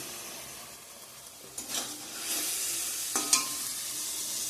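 Spice paste fries in oil with a soft continuous sizzle, broken by a few sharp scrapes and clinks of a spoon stirring against the pan, close and fairly quiet with no talking.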